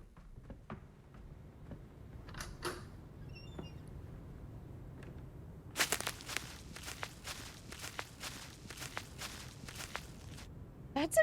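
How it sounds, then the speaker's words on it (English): Loud, aggressive character footsteps in a video game: a rapid run of heavy, close thuds that starts after a few quieter sounds and continues steadily, prominent over soft background ambience. "his footsteps are aggressive, but how loud they are, like, next to everything else"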